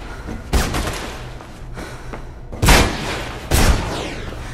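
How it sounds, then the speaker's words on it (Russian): Gunfire in the parkour video game Mirror's Edge: three loud, close booming shots spaced over a few seconds, each with a short rumbling tail, and no voices. "Я слышу выстрелы"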